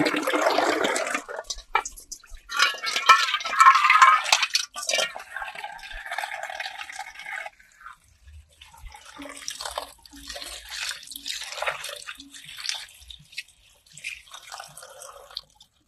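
Water pours and splashes from a kitchen tap, a bursty rush in the first seconds that then drops to softer trickling and drips.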